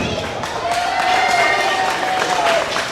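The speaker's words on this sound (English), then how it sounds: "Flying Boxcars fans, make some noise." Baseball fans at an outdoor team-name reveal event cheer and yell as a crowd, a continuous loud roar of mixed voices and clapping without a break.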